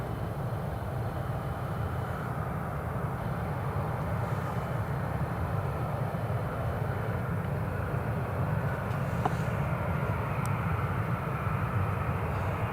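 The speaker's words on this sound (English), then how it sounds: "There's a Jet2 just rolling down the runway." A Jet2 airliner rolls down the runway at Newcastle Airport, its engines giving a steady, broad roar that holds evenly throughout at moderate distance, with no talk.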